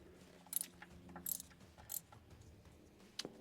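A ratchet with a 10mm socket works on a BMW N52 VANOS solenoid bolt, producing several quiet, close clicking bursts at irregular intervals against a faint background.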